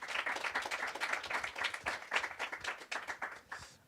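Audience applause for a speaker at a robotics technology forum, a short burst of steady clapping from a modest crowd at moderate distance, with no one speaking over it.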